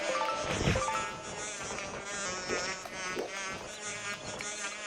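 Captured wasps buzz in The Legend of Zelda: Skyward Sword, a continuous droning hum with wavering pitch, close and steady for several seconds, joined by a few brief thumps.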